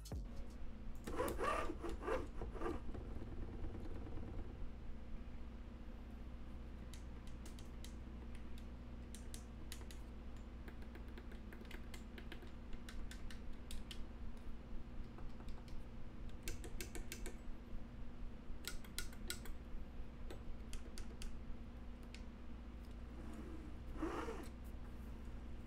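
Logitech G29 and Thrustmaster T300RS racing wheels being run in a sound test give off a steady low motor hum, with scattered rubbing clicks and short whirring bursts throughout and no speech.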